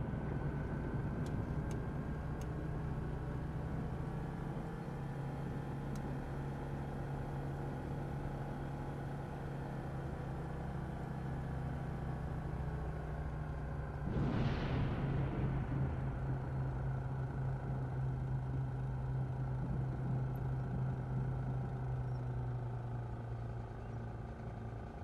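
Single-engine light aircraft, a Diamond, rolling for takeoff in Microsoft Flight Simulator at Buenaventura Vivas airport in Venezuela: a steady droning engine tone that swells into a louder roar as power comes up partway through.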